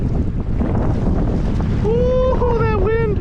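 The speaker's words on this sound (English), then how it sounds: "Ooh, that wind." Strong wind gusts buffet the microphone on a Minnesota river during a fall cold front while fishing, as a steady low roar and rumble sit close and loud, joined near the end by a voiced exclamation.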